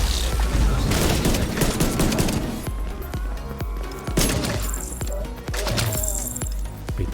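Rapid bursts of gunfire crackle alongside heavy grenade explosions in the video game The Division 2, a loud, chaotic volley of shots and blasts in quick succession.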